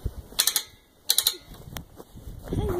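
Clicking ratchet mechanism of a log arch being cranked outdoors, in two short bursts of rapid clicks followed by a creak, fairly close, with other movement around it.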